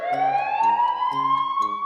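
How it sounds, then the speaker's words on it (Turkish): A wailing ambulance siren sweeps steadily upward in pitch, loud and close, with a rhythmic pulsing pattern underneath throughout. "Ambulans hastaları hastaneye götürürken siren çalar."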